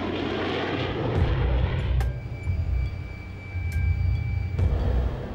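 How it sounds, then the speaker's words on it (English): Two F-16 fighter jets approaching, a steady, loud roaring engine drone with a low rumbling undertone that swells and dips slightly, heard without talk. "As the two fighter jets approach,"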